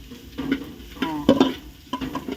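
Rice vermicelli noodles being stirred and tossed in a hot pan, with scraping and soft sizzling heard close up in irregular strokes, without talk.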